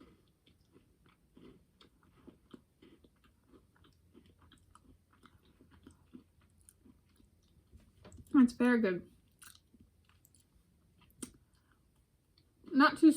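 Close, quiet chewing and crunching of caramel-topped cookie bars, soft irregular bites and clicks between pauses, with a person briefly speaking midway and again at the end.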